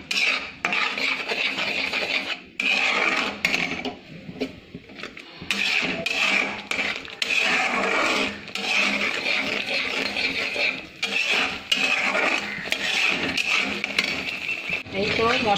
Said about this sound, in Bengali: মশলাটা ভালো করে কষিয়ে নিতে হবে।